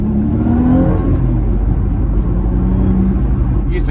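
Inside an Audi B5 A4/S4 driven hard, a loud, steady low engine drone and road rumble, the pitch rising and dipping slightly as gears change, with no talk.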